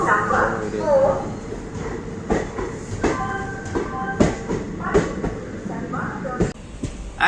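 Trichy–Tambaram Intercity special express on its inaugural run near Thanjavur station, rolling with steady rumble and clattering wheel knocks, some louder bangs, while people talk nearby.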